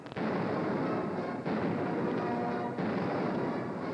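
A continuous barrage of distant booming explosions from the IllumiNations fireworks show at Epcot crackles and rumbles without pause, like a dense fireworks finale heard from afar.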